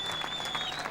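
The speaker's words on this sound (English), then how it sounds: "Huge crowd of Ferrari support here" Large crowd of Ferrari fans applauding and cheering at the 2003 Canadian Grand Prix podium celebration, a dense, steady wash of clapping with a sustained whistle-like tone above it, continuous and fairly loud throughout.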